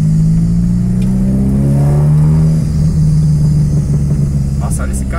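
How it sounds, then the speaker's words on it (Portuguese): Chevrolet Kadett car engine revs in steady, loud drones with a rising pitch, and faint pops and crackles from the exhaust come through near the end. "olha esse carro tanto que pipoca"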